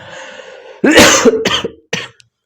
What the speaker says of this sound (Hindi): जैसे कि मेरे पास अभी खांसी हुआ है